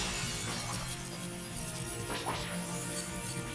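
Raid crystal shattering in the video game Pokemon Scarlet, a brief glassy break and tinkle set in busy game music and effects.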